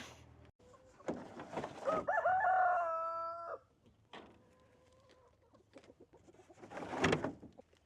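A rooster crows loudly and nearby in a chicken coop, followed by softer clucks and bird calls in an otherwise quiet space.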